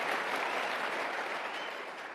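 A studio audience applauds a political talk show host's point, a continuous wash of clapping at steady volume with no speech over it.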